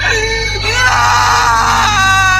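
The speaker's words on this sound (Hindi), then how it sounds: "लड़की के रोने की आवाजें और तेज हुई" A girl's crying effect in a Hindi horror story, a high wavering wail that rises and swells steadily over a low droning background, loud and close with no words spoken.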